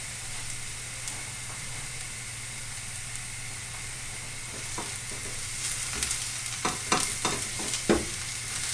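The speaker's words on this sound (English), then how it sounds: "add the aubergine chunks, and we'll stir fry them until they're lightly browned" Aubergine chunks stir-fry in oil in a pan, a steady moderate sizzle with a low hum beneath, then a cluster of sharper scraping and clattering stirring hits toward the end.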